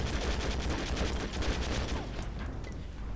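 Dense, continuous enemy gunfire from the war game Conflict: Desert Storm 2, rapid overlapping bursts of automatic fire that stay loud throughout and ease slightly toward the end.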